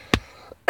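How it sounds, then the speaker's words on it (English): Two short sharp coughs, close and fairly loud, separated by a brief quiet pause. "And excuse me, coughing."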